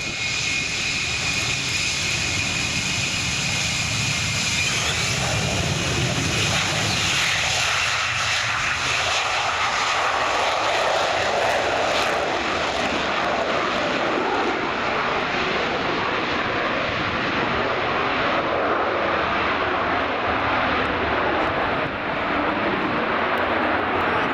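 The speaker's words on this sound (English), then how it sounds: "there you can see on the F-35B evidence of the lift fan engine configuration of this variant as it rolls down the runway" A Lockheed F-35B jet, the lift-fan variant, rolls down the runway at the RIAT airshow, a loud, continuous engine roar with a slowly shifting whine and no speech.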